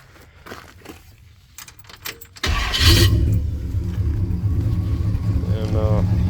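A 1962 Pontiac Grand Prix with a 389 V8 and a new Edelbrock carburetor starts up: light clicks and rattles first, then the starter cranks and the engine catches into a loud, close, rumbling idle.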